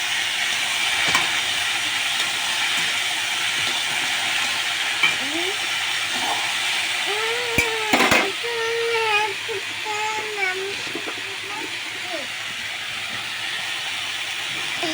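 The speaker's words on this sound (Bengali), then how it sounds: "আলুটাও সবজির সাথে ভালোভাবে মিশিয়ে ভেজে নেবো" Vegetables and potatoes fry together in a pan, giving a continuous close sizzle with occasional scraping stirs and clatters of the utensil against the pan.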